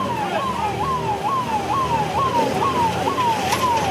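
An ambulance siren wails in a steady repeating rising-and-falling cycle, carrying a protester injured in a police lathi-charge at a Jallikattu protest, loud and continuous over low street and traffic rumble.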